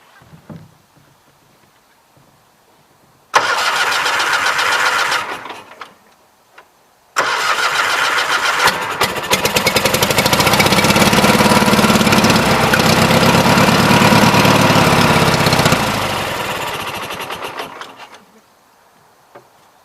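Two 20-G engines on a trailer crank and fire: a short burst of cranking, a pause, then a longer loud run that catches and roars for several seconds before winding down to quiet.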